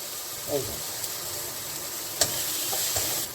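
Chili powder and bay leaves sizzle in hot oil while making a fish-head khichuri, a steady low frying hiss with a few soft stirring scrapes and brief clinks, close and fairly quiet.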